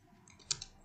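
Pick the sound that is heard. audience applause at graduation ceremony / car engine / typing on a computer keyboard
typing on a computer keyboard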